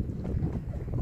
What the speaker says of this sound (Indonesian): Kemudian anginnya cukup kencang.